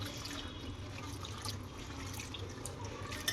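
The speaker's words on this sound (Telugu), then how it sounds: "గోంగూరలో వాటర్ వేసుకొని శుభ్రంగా కడిగేసేయాలి." Running water splashes steadily as gongura leaves are rinsed and swished in a sink, a continuous watery wash with faint drips.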